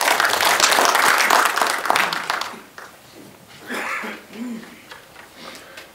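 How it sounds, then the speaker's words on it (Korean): An audience claps at an inauguration ceremony for a provincial residents' council leader, held in a cultural center hall. The applause is loud and dense for about two seconds, then fades out and gives way to a voice speaking. "박수 한번 쳐드리시죠."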